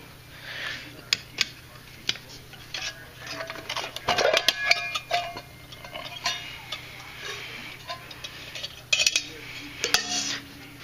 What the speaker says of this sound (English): So let me get the alcohol stove out.